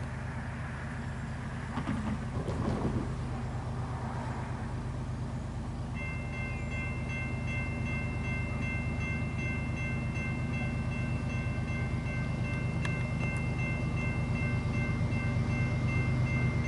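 A train rumbles steadily along the track at a distance at Minoa, a low continuous roar with a faint high whine joining partway through.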